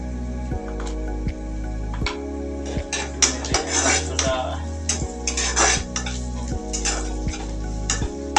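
Turmeric powder being stirred into spices frying in a pan, with a utensil scraping and clinking against the metal, light sizzling underneath, and a steady hum running throughout.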